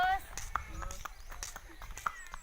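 Hooves of a walking horse clip-clop in a slow, uneven rhythm on a rural road, close and fairly clear, with a person talking over them.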